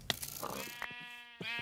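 Sheep in the Minecraft video game bleat several times, wavering cries spaced over a second and a half, clear and close with no talk.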